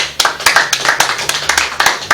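A studio audience at an interview show claps for the arriving guest, a poet, in a brisk run of loud, close hand claps that stays fairly even throughout.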